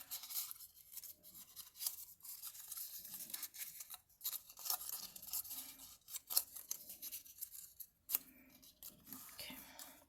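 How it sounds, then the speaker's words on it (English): Scissors snip repeatedly through folded paper while a barn ornament is being made, giving crisp close cuts in an uneven rhythm with soft rustling and handling noise between them. "So I fold it in half and then cut it at an angle."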